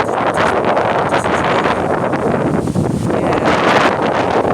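Strong wind blows outdoors, buffeting the microphone in loud, surging gusts that rumble and roar unevenly across the whole stretch, with no talking heard.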